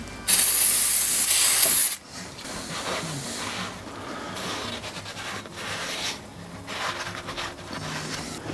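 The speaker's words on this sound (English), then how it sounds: "Now this one here, you can go ahead and spray it." A loud hiss of spray paint bursts onto an engine cylinder for about two seconds, then stops, followed by quieter scraping and handling noises.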